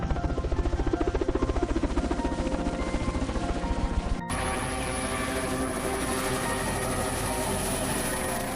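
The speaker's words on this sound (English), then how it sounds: "the panda is lifted high above the trees into the waiting helicopter" A helicopter hovers above rainforest trees while lifting a panda, its rotor and engine giving a steady, loud, dense drone that continues throughout with only a brief cut midway.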